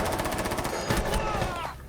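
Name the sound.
gunfire in video game Rainbow Six Siege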